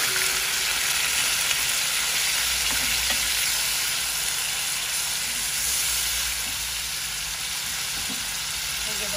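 Radish frying in a pan with spice paste during home Bengali cooking, a steady broadband sizzle with occasional stirring scrapes running throughout, fairly loud and continuous.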